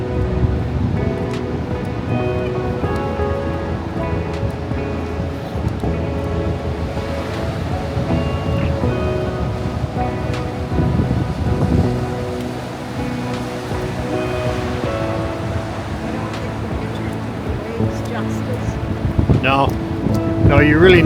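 Ocean surf rolls in at Tofino where surfers wait for big waves, a steady, loud wash of breaking water with a constant rumble and wind, running unbroken throughout.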